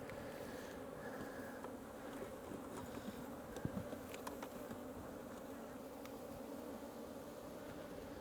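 A dense swarm of honey bees buzzes steadily and close by during hive splitting, a continuous humming drone with occasional small clicks.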